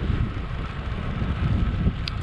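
Steady wind roars across the microphone while cycling outdoors on a cool day with a north wind around 16 mph, a dense continuous low rush with no talk.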